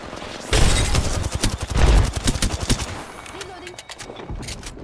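Rapid bursts of automatic gunfire in an online battle royale shooter match, loud close volleys of shots over a few seconds, trailing off into sparse fire with game voice lines speaking over it.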